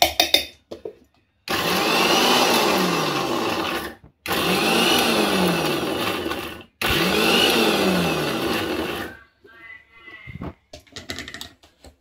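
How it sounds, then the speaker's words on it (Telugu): A kitchen mixer grinder coarsely grinds corn kernels for corn vadas, running in three loud, sustained bursts of a few seconds each, separated by brief pauses, with some clattering handling afterward. "మొక్కజొన్న గారెలకు నేను ఇది మిక్సీ పట్టుకున్నానండి."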